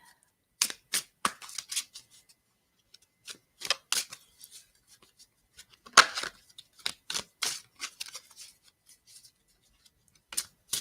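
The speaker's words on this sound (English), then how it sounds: "I'm shuffling my cards." Tarot cards are shuffled in short bursts of crisp riffling and slapping, clustered in quick groups with brief pauses between, close and clear against an otherwise quiet background.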